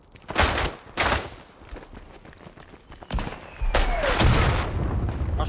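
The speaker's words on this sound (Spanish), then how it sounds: "¡Hostia, hay un búnker y con una ametralladora!" Bursts of machine-gun fire come from a bunker in the World War I game Isonzo, loud fusillades separated by shorter gaps, with footsteps and other battlefield noise in between.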